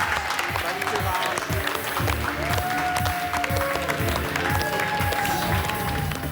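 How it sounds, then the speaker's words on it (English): Steady applause fills the space, dense clapping from a room of people with music and murmuring voices mixed in. "A little round of applause for our little judges."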